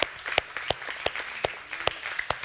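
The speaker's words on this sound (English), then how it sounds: "kids, you get to lead us and clap for them as they get ready to go on this trip" Sparse applause from a small church congregation, children among them, during a service sending off a departing team; scattered individual claps with uneven rhythm, fairly close and not very loud.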